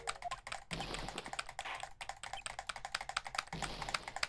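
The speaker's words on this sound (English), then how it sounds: "Aggressive keyboard typing." Aggressive, rapid typing on a computer keyboard during a Phoenix Wright: Trials and Tribulations game session, dense loud clacking keystrokes in fast bursts with two brief pauses, close and alone.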